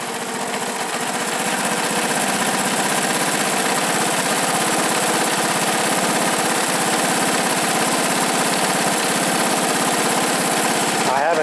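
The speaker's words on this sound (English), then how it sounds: "Well, she seems to be running alright." Engine of a 1970s Honda ATC three-wheeler running, a loud, steady buzzing drone close by that stays even throughout with a rapid mechanical clatter.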